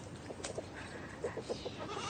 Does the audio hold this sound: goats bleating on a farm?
yes